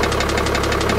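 An Antares 760 motorboat engine runs with a steady, rhythmic low throb and regular pulsing, close and loud throughout the brief stretch.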